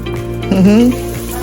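Shrimp seasoned with salt and pepper sizzling in a pan for combination fried rice, a steady close frying hiss with a brief tonal squeak or voice-like sound in the middle.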